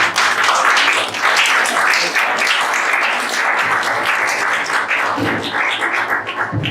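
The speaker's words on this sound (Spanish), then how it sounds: "Un aplauso." Full audience applause from a packed church gathering, loud continuous clapping that swells and thins slightly over several seconds.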